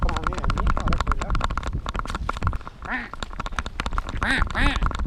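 Geese honk loudly and repeatedly, close by, with dense overlapping nasal calls that sound almost like quacking and come in uneven bursts throughout.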